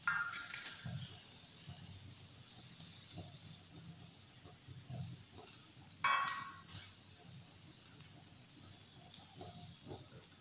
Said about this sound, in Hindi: अब हम लोग इस पर अंडे डालेंगे।